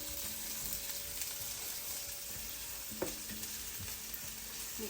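Pork and onion sauté in a pan for a pork menudo, giving a close, steady sizzle with occasional clicks and scrapes from stirring.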